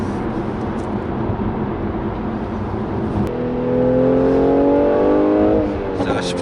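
Mercedes-Benz C450 AMG 4Matic in Sport Plus mode, its engine revving up inside the cabin with a rising, harmonic drone that holds and then eases off, while someone speaks over it.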